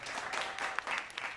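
Audience applause at a comedy show, a short, soft patter of clapping from a small crowd heard at some distance and fading out within about a second.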